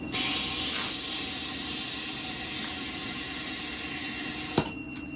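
An air compressor inflates a Yamaha Vino 50cc scooter tire, a loud, steady hiss of rushing air that cuts off abruptly near the end with a short burst.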